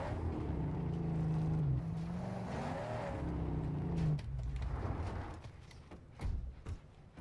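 Vehicle engines in the Mad Max video game, a steady droning rumble that rises and shifts in pitch, with a sharper burst of revving near the end.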